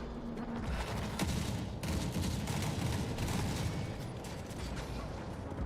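An M79 grenade launcher fires in the video game The Forever Winter amid a dense battle, with repeated sharp reports, mechanical clatter and booming impacts layered over continuous background gunfire.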